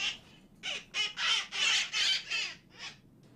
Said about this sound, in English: this is one of those parrots